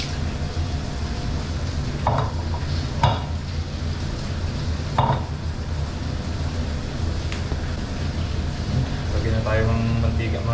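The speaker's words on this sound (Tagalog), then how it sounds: "mag-prito naman tayo" Food frying in hot oil in a home kitchen, a continuous sizzle under a low hum, broken by a few sharp stirring scrapes and clinks.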